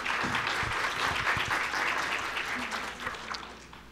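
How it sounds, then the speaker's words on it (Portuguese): Applause from a conference audience at a national meeting of state health surveillance coordinators, dense steady clapping at moderate level that gradually thins and fades toward the end. "Uma salva de palmas."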